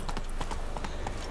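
Horse hooves clip-clop in The Witcher 3 video game, a quick, even rhythm of soft hoof beats at moderate distance, steady through the short stretch with no talk.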